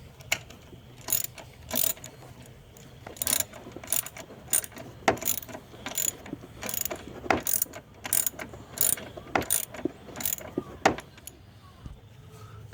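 Ratchet tightening a 13 mm bolt on the negative battery terminal of a 2013-2016 Ford Escape 2.0L AWD, rapid bursts of clicking pawl strokes in irregular repeated runs, close and without talk.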